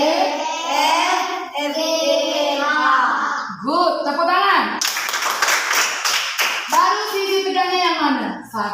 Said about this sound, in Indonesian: Good, tepuk tangan.